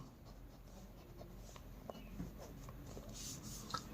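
A pen scratches across paper while a maths solution is written out by hand, with faint, close, irregular strokes and small taps over a low background hum and no talking.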